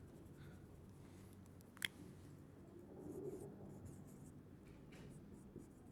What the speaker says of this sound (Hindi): लिख लेता हूं सिंपली